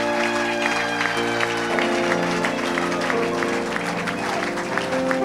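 A church congregation claps and cheers in praise of the Lord, with dense, continuous applause under steady music throughout.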